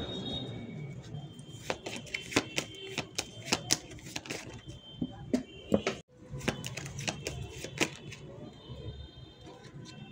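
Tarot cards being drawn and shuffled during a Judgement karma reading, giving a run of sharp, close flicks and taps at irregular intervals with a short pause midway, over faint background noise.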